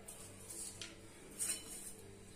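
A spoon scrapes and clinks in a bowl while mixing potato paratha filling with green coriander, green chilli, amchur powder and salt, giving a few brief soft scrapes up close with no talking.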